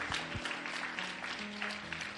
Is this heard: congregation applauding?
yes